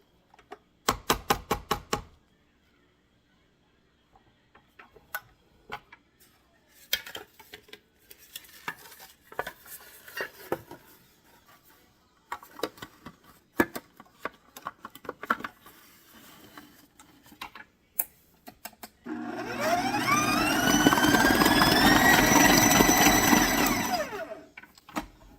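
A stand mixer beating chocolate butter frosting: quiet scraping and clinking at first, then a loud, steady motor whir that holds for several seconds before it cuts off.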